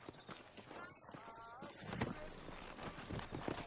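Horse hooves clip-clop at a walking pace in the Western video game Red Dead Redemption, a steady rhythm of light thuds running under the game characters' talk.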